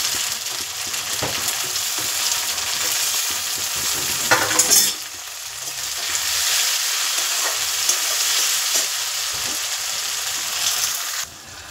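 Chopped tomatoes frying with browned onions in a pan, a continuous close sizzle broken by stirring scrapes and spoon knocks, with no voices.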